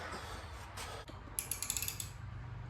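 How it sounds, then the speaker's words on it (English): Wrench ratcheting on the head bolts of a 1937 Harley-Davidson Flathead UL engine, a quick run of sharp clicking pawl strokes after a few dull mechanical creaks and knocks, close by with no talking. "We got Waylon taking the head bolts out."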